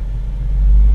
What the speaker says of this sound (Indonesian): kunci kontak on nyala. Ya nyala seperti ini, saya naikkan RPM.